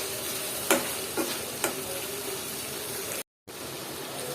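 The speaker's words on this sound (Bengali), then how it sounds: "আর এই কটা আমি একটু কষিয়ে নিয়েছি" Mixed vegetables sauté in a pan with a continuous sizzle and hiss. Now and then there are faint stirring scrapes and a brief dropout, and no voices.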